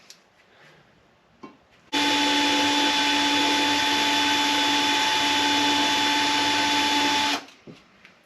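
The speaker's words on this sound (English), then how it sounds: "So we're going to take our drill, we're going to put this self-tapper in there," A cordless drill spins a self-tapping screw into a valve stem seal on a 1982 Fiat 124 Spider cylinder head, a loud steady high whine lasting about five seconds, close by, with quiet handling noises before and after.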